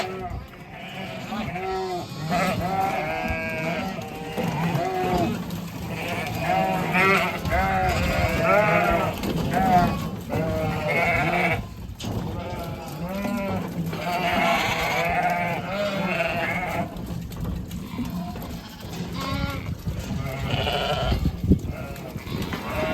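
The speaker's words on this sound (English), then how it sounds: "Well over 100 lambs." A crowd of well over 100 lambs bleats in a farm pen in Ireland, overlapping cries near and far in a continuous chorus, with some voices heard among them.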